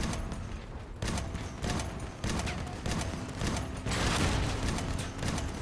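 Weapons firing in the vehicle combat game Crossout, bursts of heavy gunfire with sharp repeated shots and mechanical clanks, loud and close with short gaps between volleys.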